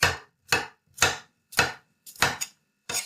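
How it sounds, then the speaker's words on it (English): Knife slicing three garlic cloves into thin slices on a cutting board, six crisp, evenly spaced chops about half a second apart, close and clear with no talking. "It's 3 cloves of garlic cut into thin slices."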